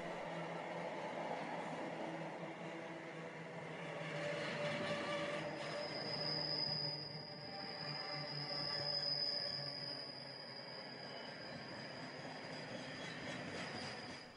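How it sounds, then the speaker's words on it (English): Class 66 diesel locomotive hauling a freight train on the Midland Main Line near a junction, a steady rumbling roll of wagons with a high metallic wheel squeal that rises and fades through the middle, sustained throughout. "Another freight, again hauled by a ubiquitous Class 66"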